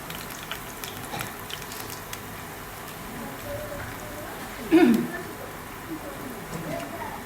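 Chopsuey frying in a pan gives a faint, steady sizzle and crackle, with a brief louder clatter partway through and soft background voices.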